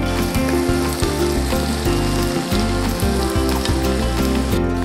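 Sliced onions and shallots sauté in a hot pan with a steady, even sizzle and light crackle over a low, constant background hum.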